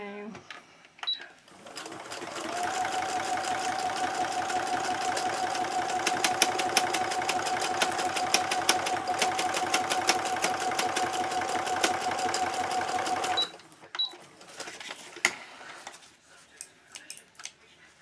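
A sewing machine runs steadily for about eleven seconds with a whirring motor hum and rapid needle clatter, starting and stopping abruptly, close by.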